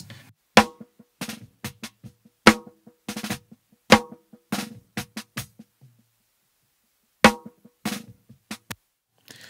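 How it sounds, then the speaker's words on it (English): Snare drum captured through an Earthworks DM20 and a Shure SM57 together, played alone as a series of sharp, close hits in uneven groupings, with a pause in the middle before the strikes resume. "which is together going to make a very fat and articulate sounding snare"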